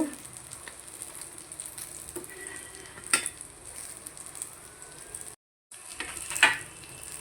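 Eggplant frying in a pan, a continuous sizzle under scattered stirring sounds and two sharp metallic clinks of a utensil against the pan, with a brief silent gap near the end.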